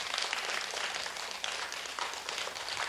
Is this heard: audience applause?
yes